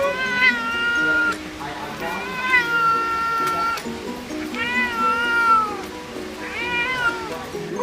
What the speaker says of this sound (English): I like a feisty kitty.